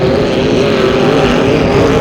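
Vintage racing boats run at Moses Lake in a steady, loud engine roar, a continuous droning hum that stays level throughout, with no speech over it.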